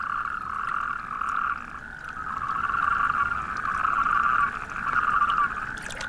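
Natterjack toads call in a wetland habitat in an industrial area of Germany, a loud continuous chorus of rolling, rattling trills that overlap and swell in waves, with some water splashing.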